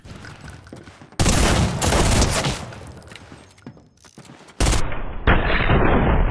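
Bursts of rapid gunfire crack out in a Fortnite Creative one-on-one match, shots fired through a wall coming in loud, dense volleys with brief gaps between them.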